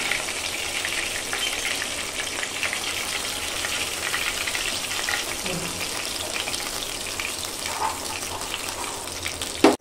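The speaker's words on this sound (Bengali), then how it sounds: "আর একই পদ্ধতিতে আর বাকি মাছগুলো ভেজে ফেলব" Pabda fish frying in hot oil, a continuous broadband sizzle with bubbling, watery texture that stays steady and close, ending in a brief clatter.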